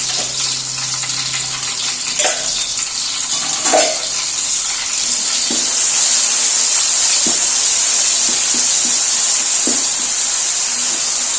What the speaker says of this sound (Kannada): ಈಗ ಶುಂಠಿ ಬೆಳ್ಳುಳ್ಳಿ ಪೇಸ್ಟ್ನ ಕೂಡ ಹಾಕೊಂಡು ನಾವು ಒಂದು 2 ರಿಂದ 3 ನಿಮಿಷ ಚೆನ್ನಾಗಿ ಫ್ರೈ ಮಾಡ್ಕೊಬೇಕು